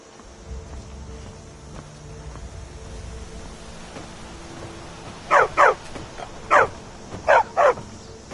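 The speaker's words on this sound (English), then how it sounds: "Good dog." A dog in the video game Skyrim barks five times in two quick pairs and a single bark, loud and close, over quiet game ambience.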